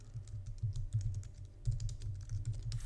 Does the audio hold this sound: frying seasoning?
no